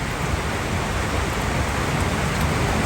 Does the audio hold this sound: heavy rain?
yes